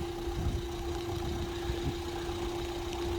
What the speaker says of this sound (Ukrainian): Зараз мотор працює, ніяких технічних проблем по машині